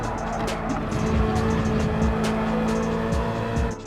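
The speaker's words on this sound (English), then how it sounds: "start getting back on the throttle gradually until I can go full out" A Citroen GT race car in Gran Turismo 7 holds a steady, loud engine drone as it powers out of a corner and back to full throttle on the Lago Maggiore circuit, with brief tire squeal and gear-shift dips running throughout.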